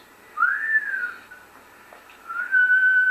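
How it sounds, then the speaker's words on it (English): Two short whistled notes, one rising and falling, then another rising and held, clear against quiet background. "Must be the whistle he swallowed 10 years ago, remember?"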